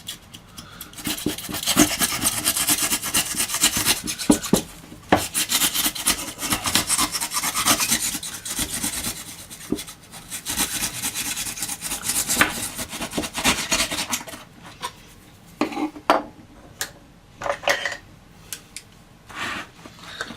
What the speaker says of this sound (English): the foam has expanded a bit here, so I'm just going to take some of the excess off